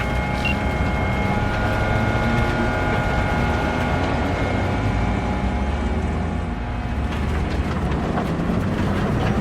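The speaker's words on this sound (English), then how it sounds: "the train's leaving. We'd better move." Train pulling away in Cyberpunk 2077, a steady loud rumble with a droning hum and metallic rail tones that holds throughout, with no talk over it.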